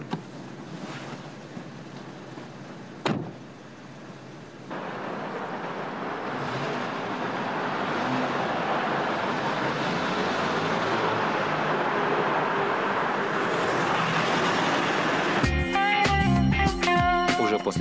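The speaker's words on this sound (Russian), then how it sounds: "Осталось переставить машину на парковку и сдать ключи." A 2009 Kia Soul is driven to a parking spot, a steady engine and road rumble under wind noise, with a sharp knock early on and a rising drive before a clattering mechanical end.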